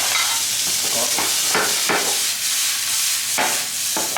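Vegetables sizzle steadily in a hot pan while a utensil stirs and scrapes them around in short, irregular strokes.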